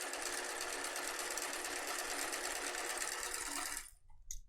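A sewing machine fitted with a quarter-inch foot stitches a fabric scrunchie, giving a fast, steady mechanical whir for nearly four seconds before stopping abruptly and leaving a few faint clicks.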